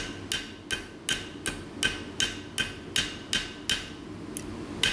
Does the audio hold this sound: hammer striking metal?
yes